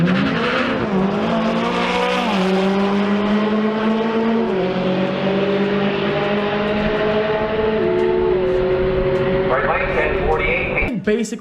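A McLaren 720 on a drag run at a callout event. Its engine roars loudly and climbs steadily through several gear changes, each shift dropping the pitch before it rises again, then cuts off abruptly at the end.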